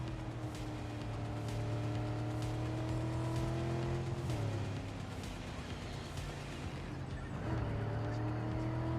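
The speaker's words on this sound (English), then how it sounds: "our car kind of didn't get some grip and then found some grip" Car engine droning steadily while driving in the video game Cyberpunk 2077, with pitch dips near the middle and end as the car briefly loses grip and shifts; continuous, fairly loud, no talking.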